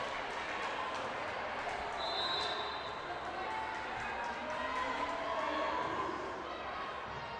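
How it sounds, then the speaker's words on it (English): Crowd noise swelling in a gym during a girls' high school volleyball regional championship after a block at the net, a steady roar of cheering over the whole stretch, with a commentator's voice talking over it. "You hear that crowd come alive."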